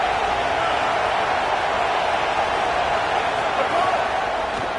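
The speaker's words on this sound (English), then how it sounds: "Now this home crowd making life difficult" Home crowd at a college football game in a video game, a steady dense stadium roar filling the background without a break, with commentary voices talking over it.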